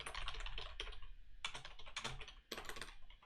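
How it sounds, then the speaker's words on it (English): Typing on a computer keyboard during a Mario randomizer game stream: close, quick bursts of clicking keystrokes in irregular clusters, with brief pauses between them and no talking. "Yes, you can hear me typing."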